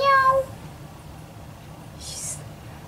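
A cat meows once or twice near the start in short tonal cries, followed by quiet outdoor background with faint birdsong; the cries are brief and close.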